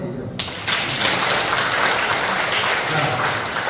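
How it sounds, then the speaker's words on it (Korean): An audience at a community council training event breaks into sustained applause after a short pause, a dense, even clapping that fills the room for several seconds. "박수 한번 드리죠."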